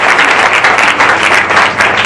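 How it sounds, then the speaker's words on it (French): A church congregation breaks into loud, dense applause, a close, steady clatter of many hands that lasts throughout. "nous acclamons très fort"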